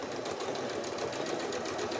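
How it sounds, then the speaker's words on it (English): Sewing machine stitching a three-layer pleated fabric face mask with a 3/8-inch seam, a steady close mechanical whir with rapid needle chatter throughout, no voices. "you're just gonna stitch this down at 3/8 of an inch and just shy of 3/8"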